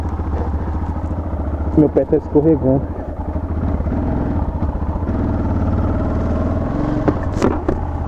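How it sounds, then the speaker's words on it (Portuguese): A Yamaha XT660 single-cylinder motorcycle engine idles steadily and close throughout, with a brief blip of revs near the start, under ongoing talk from people nearby. "Nossa, essa moto é chave, mano."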